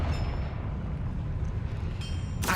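A fire spell blast from Hogwarts Legacy gameplay, a steady low rumbling explosion followed by brighter bursts near the end, loud and close.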